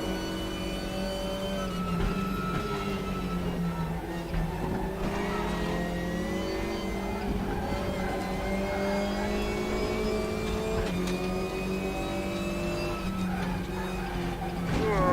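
An Opel Astra TC touring car engine revs and shifts on the Vålerbanen circuit in RaceRoom, with repeated rising and falling pitch sweeps as it accelerates, loud and continuous.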